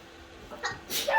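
A child sneezes in a third-grade classroom, a short faint build then a sharp breathy burst near the end, fairly close, with no talking over it.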